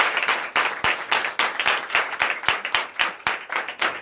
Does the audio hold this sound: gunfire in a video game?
no